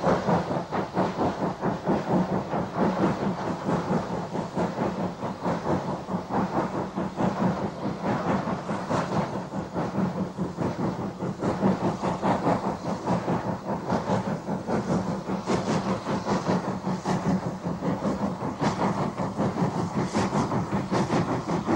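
A preserved North Eastern Railway steam locomotive, number 2392 on the North Yorkshire Moors Railway, works hard with a banking engine from northeast England, giving a loud, continuous rhythmic chuffing and rumble with no talking.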